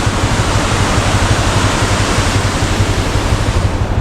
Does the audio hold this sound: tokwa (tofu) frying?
no